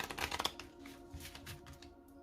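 Oracle cards being shuffled by hand, a dense burst of papery riffling and snapping up front that eases into softer rustling handling with no talk.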